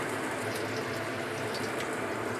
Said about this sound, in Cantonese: 先落薑，爆香啲薑先